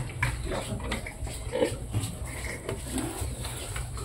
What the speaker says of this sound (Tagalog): Silipin natin yung mga biik nila